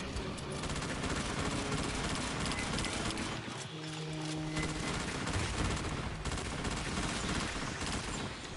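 Dense, continuous gunfire in the sci-fi shooter Aliens: Fireteam, rapid automatic bursts blending into a steady loud barrage with explosive crackle, running throughout without pause.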